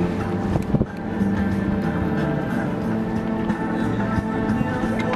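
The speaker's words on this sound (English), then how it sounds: "Here comes a gust of wind." A gust of wind strikes a sailboat underway, a broad rushing roar with buffeting against the microphone, steady and close with small thumps near the start.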